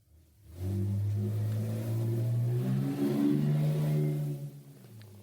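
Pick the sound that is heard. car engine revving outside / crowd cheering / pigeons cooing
car engine revving outside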